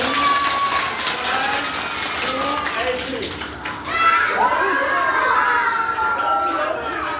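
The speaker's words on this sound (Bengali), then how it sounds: "এবার জোর করে হাত তালি দাও, জোর করে হাত তালি দাও" Children at a magic show break into clapping and excited chatter, the applause swelling louder partway through while a voice speaks over the crowd.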